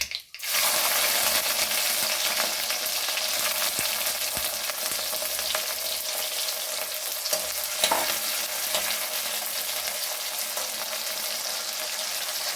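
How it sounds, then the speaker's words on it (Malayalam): Garlic hits hot oil with spluttered mustard seeds for a Kerala mango pickle, opening with a sudden splash and then a loud, continuous close sizzle with faint stirring, with no voices. "അപ്പോൾ എല്ലാം പൊട്ടി വന്നു നമുക്ക് വെളുത്തുള്ളി ഇട്ട് കൊടുക്കാം"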